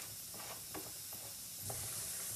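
Finely diced onion and tomato sauteing in a pan for an Indian black-eyed pea curry, a faint, steady hiss and sizzle with a few soft scrapes from stirring.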